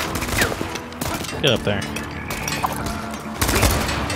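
Machine gun fire in the Strider video game comes in rapid, loud bursts at the start and end, mixed with game effects, as a voice speaks briefly.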